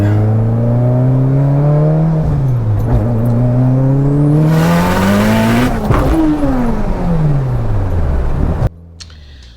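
Mitsubishi Evo X with a 2.4L stroked engine pulling at wide open throttle, a loud close drone climbing in pitch, dropping at a gear change near two seconds and again around six, then cutting off abruptly.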